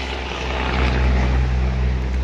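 Highway traffic rushes past nearby as a steady, loud broadband roar with a low drone underneath, continuous for a couple of seconds and free of talk.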